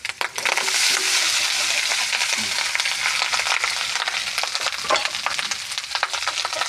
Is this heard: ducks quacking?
no